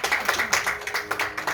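Audience applause with rapid, dense hand clapping at a church-style gathering, steady and fairly close throughout the short burst.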